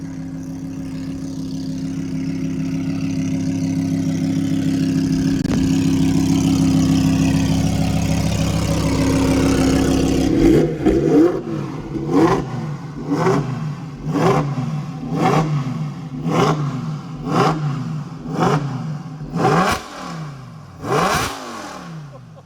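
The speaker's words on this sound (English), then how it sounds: "And I'm gonna do some revs here, but man, sounds insane." A V10 engine idles loudly and steadily for about ten seconds after warming up, then bursts into a string of roughly ten sharp, rhythmic throttle blips, each rising and falling quickly, close and powerful.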